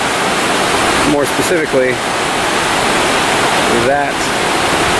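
A glacial meltwater river rushes out of a cavern at the base of a glacier, giving a loud, steady roar of water, with someone talking briefly over it.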